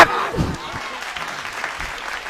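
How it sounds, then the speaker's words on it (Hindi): Audience clapping at a Hindi poetry recital, a brief burst of applause that is loudest at the start and fades quickly within a couple of seconds. "ताली बजा।"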